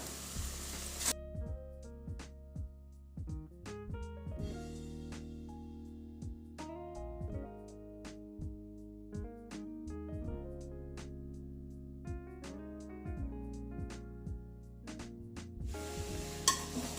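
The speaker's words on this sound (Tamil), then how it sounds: "நறுக்கி வச்சுருக்க கத்திரிக்காவை இதில் சேர்த்து நல்லா வதக்கிக்கலாம்." Pieces of eggplant sizzle and fry in a pan while a utensil stirs and scrapes repeatedly, with clinks against the pan throughout, cooking brinjal rice.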